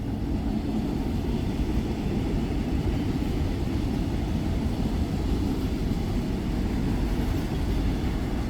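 A train passes near a rail site in Vermilion on a sticky, muggy day, making a loud, steady low rumble that holds evenly throughout with no talking.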